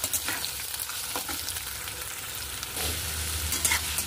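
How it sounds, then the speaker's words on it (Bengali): Chopped onions frying in a pan for a paneer dish, a steady close sizzle with repeated scraping stirs of the spatula and a brighter burst of hissing toward the end, no talking. "কুচনো পেঁয়াজটা দিয়ে আমি ভালো করে একটু নেড়ে চেড়ে নেব।"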